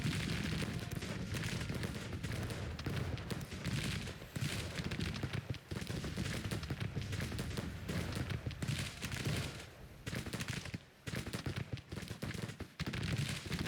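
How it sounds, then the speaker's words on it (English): Cannon and rifle fire boom and crackle across a battle in the strategy game Grand Tactician: The Civil War 1861-1865, as dense, continuous volleys of overlapping shots with no spoken voices. "I do think these guys are slowly winning the cannon battle."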